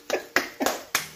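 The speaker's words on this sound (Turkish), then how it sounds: "Kendimi alkışlıyorum." Four quick, sharp hand claps in a kitchen, evenly spaced and fairly quiet, each a crisp slap with a short decay.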